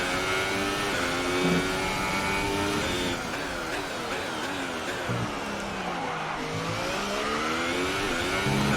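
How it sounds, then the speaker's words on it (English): F1 2018 racing game car engine at Bahrain, a loud continuous high-revving whine sweeping down through rapid downshifts with short stuttering drops, then climbing again, with no talk. "it almost sounds like a little record skip if you downshift, I think, a little too fast"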